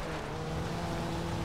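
Steady engine drone of a car in the racing game Forza Horizon 2, a continuous loud hum held at near-constant pitch through the whole moment, with no talking.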